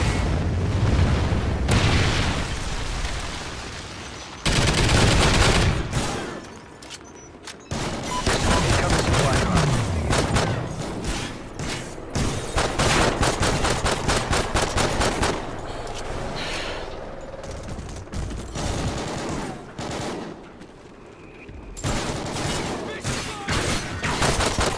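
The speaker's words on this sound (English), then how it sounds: "Friendly Trinity rocket inbound." Heavy gunfire and a Trinity rocket strike in the Call of Duty Ghosts Safeguard mode on the Strikezone map, with dense automatic bursts, booming explosions and continuous loud battle noise throughout, overlaid by in-game radio voices.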